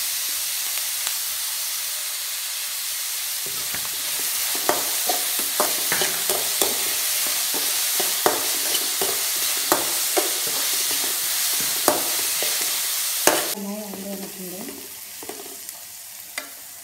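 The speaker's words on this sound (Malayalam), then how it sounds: "ഇനി അല്പം ഉപ്പ് ചേർത്ത് നന്നായി ഇളക്കി കൊടുക്കുക." Onion and crushed garlic fry in a pan with a steady broadband sizzle, while a spoon scrapes and stirs in a run of sharp knocks. A brief hiss near the end gives way to quieter bubbling, and no one speaks.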